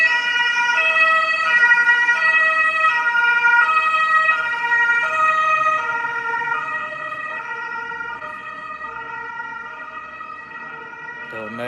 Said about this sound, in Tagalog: So where is this ambulance coming from?